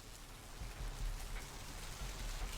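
Rain in the video game Vampire the Masquerade Bloodlines, a soft, steady hiss of falling drops pattering evenly on surfaces, faint and continuous with no other sounds.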